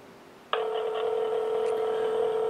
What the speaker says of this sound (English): I can place the call.